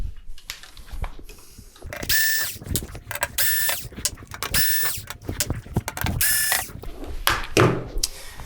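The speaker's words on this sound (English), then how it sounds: "And now we can move on to our screws." Screws are being unscrewed from the back panel of a Hisense 40H4030F1 TV, heard as several close bursts of ratcheting, clicking screwdriver turns with thin squeaks, separated by brief pauses.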